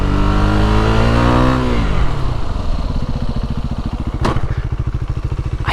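A KTM Duke 390 motorcycle engine revs high and then drops as the rider attempts stoppies, settling into a loud, close, pulsing low idle with a brief sharp clatter near the end.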